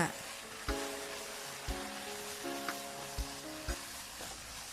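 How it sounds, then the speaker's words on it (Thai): King oyster mushrooms stir-fried in butter with sugar and light soy sauce: a constant close sizzle with a spatula knocking the pan roughly once a second. "เราก็เอาเห็ดมาผัดรวมคลุกเคล้ากับเครื่องปรุงให้ทั่ว"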